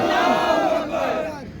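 A protest crowd outside a press club roars back a slogan in unison, a loud massed shout of many voices that holds briefly and then fades.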